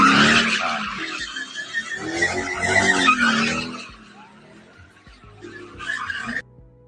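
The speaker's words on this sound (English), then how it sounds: "they proceeded to do donuts in the car." A car spins donuts at a street takeover on Chicago's south side, tires skidding and squealing loudly with a roaring engine for several seconds before fading to quieter crowd and traffic noise.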